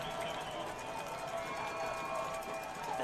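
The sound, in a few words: Fordham football crowd getting loud before a field goal kick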